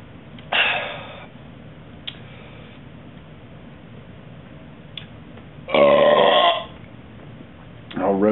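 A man burps repeatedly, several separate close belches of varying length, the longest near the end, with quiet room tone between them.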